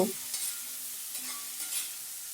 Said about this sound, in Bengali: এটাকে নেড়ে চেড়ে একটু ভাজা ভাজা করে নেব